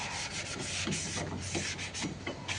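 Sandpaper is rubbed by hand over a car brake drum, making a continuous rough, scratchy rasp in quick back-and-forth strokes, close and fairly loud, with no voices.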